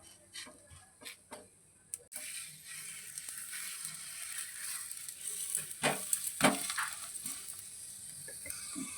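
A few light clicks, then a steady sizzling hiss of a paratha frying in a pan, with occasional crackles and no talk.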